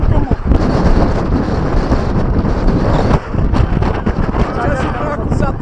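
Strong wind buffets the microphone in a continuous loud roar, with occasional gusts and faint voices buried underneath, outdoors in Dubai.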